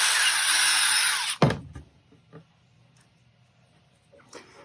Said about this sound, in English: am just going to quickly take a little drill bit and drill that one out